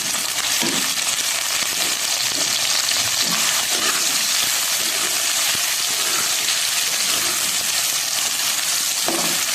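Onions fry in hot ghee with a steady, dense sizzle and crackle throughout, close and loud, with a few faint clinks of a utensil and no speech.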